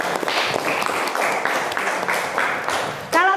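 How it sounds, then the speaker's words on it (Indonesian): Classmates clap for a student named Anissa in a school classroom, a steady patter of hand claps filling about three seconds before a voice cuts in at the end. "Oke, aplaus buat Anissa."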